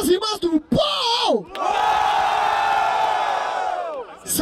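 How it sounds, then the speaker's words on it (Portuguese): A crowd at a Brazilian rap battle in Barueri, São Paulo, cheers and roars loudly in one sustained burst after a host's shouted calls, with whoops rising above the mass of voices. "Barulho para as rimas do Paul!"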